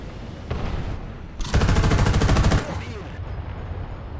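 Tank battle in War Thunder: a single heavy cannon thump, then a sustained, loud, rapid machine-gun burst lasting about a second before fading back to engine rumble and ambient noise.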